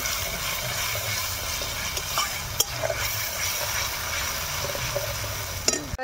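Ground tomato paste hits a hot pan for a village-style potato and pointed gourd curry, giving a steady close sizzle with scraping stirs and a couple of sharp clinks of a spoon against the pan.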